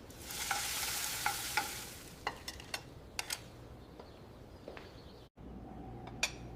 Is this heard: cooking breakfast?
yes